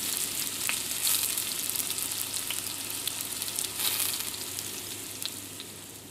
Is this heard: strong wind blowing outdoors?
no